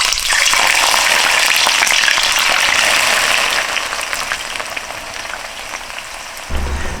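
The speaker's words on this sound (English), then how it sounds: "We need to fry the onion first at the high flame." Chopped onion dropped into hot oil on a high flame for chicken biryani, a loud dense crackling sizzle that stays steady, easing slightly toward the end, with a clatter near the close.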